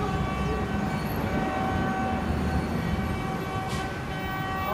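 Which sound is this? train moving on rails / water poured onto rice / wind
train moving on rails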